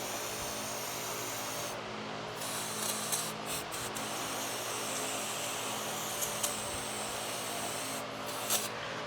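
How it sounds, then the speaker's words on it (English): Brake cleaner sprayed onto Freightliner Cascadia truck parts during king pin bushing work in a shop, a steady close hissing spray running almost continuously with a few brief pauses and faint rubbing. "I use tons of brake cleaner"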